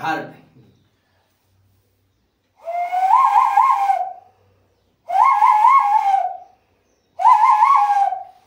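A brief voice, then three long wavering whistles blown with the breath as a lung breathing exercise, each lasting over a second, separated by short pauses.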